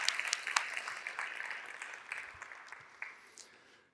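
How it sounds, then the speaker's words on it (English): Brief, fairly quiet applause from an audience at an agricultural technology presentation, a short burst of clapping that thins and dies away within four seconds. "Maybe a round of applause for Alice."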